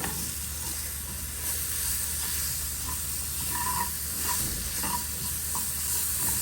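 Zucchini with minced garlic and dried mint sizzles steadily in a pan on the stove, a continuous frying hiss with stirring scrapes throughout and no talking.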